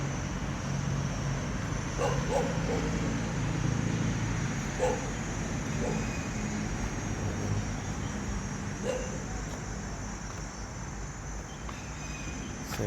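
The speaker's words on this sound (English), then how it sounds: "And there's the dogs." Dogs barking at Kamphaeng Phet historical park, scattered distant barks over a steady outdoor bed of insects and crickets.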